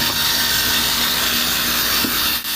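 A grinder removing rust from an old auction-bought jeep makes a loud, steady abrasive roar and whine that runs unbroken and close, dipping briefly at the end.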